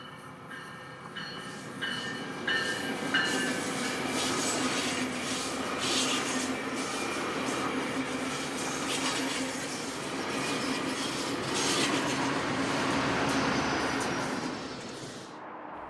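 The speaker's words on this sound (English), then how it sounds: "A Metrolink has just departed Anaheim Canyon Station and crossed over the busy 91 freeway" A Metrolink commuter train rolls past continuously just after leaving Anaheim Canyon Station near the 91 freeway, with a broad steady roar of wheels and cars and faint metallic squeals, fading slightly at the very end.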